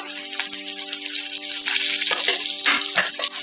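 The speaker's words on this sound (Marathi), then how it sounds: "साईडने थोडं तेल सोडून द्या।" Mackerel (bangda) fries in hot oil in a pan, a loud, dense, continuous sizzle heard up close with bursts of crackle and spatter and no voices.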